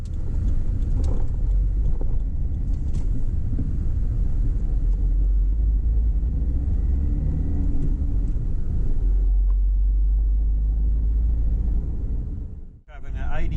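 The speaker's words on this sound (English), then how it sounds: "Driving at 80 kilometres an hour." A Subaru Forester with worn lower control arm bushings cruises at 80 km/h, a deep steady road rumble and tyre drone filling the cabin with constant loudness throughout.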